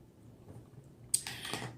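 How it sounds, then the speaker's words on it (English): A knife cuts the ends off scrubbed lemons. There is a short quiet lead-in, then one sharp, close slicing click followed by a brief scraping rasp as the blade goes through and meets the board. "I'm now just going to cut off the ends of each"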